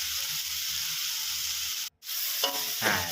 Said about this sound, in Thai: ตอนนี้ก็ผัดคลุกเขานะครับ ให้ก้านเขาสลดหน่อยนะครับ